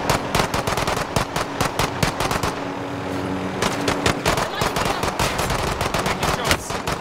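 Heavy automatic gunfire in a multiplayer shooter video game, with rapid, loud bursts of shots crackling almost continuously and a brief drop-off partway through before the firing resumes at full intensity.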